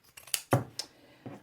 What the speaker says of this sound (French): tu prends tes ciseaux cranteurs et tu coupes, et tu coupes, et tu coupes